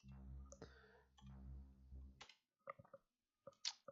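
A faulty computer mouse gives a few soft, quick button clicks in small clusters, quiet and close, after a brief low hum fades out.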